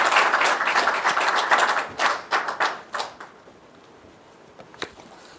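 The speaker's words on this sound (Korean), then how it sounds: "우리 다시 한번 교수님께 감사의 박수로" A seminar audience claps for a professor, a burst of many hands that thins into scattered claps and fades to a few last taps, with no talk over it.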